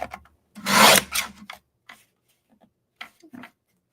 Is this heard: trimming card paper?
yes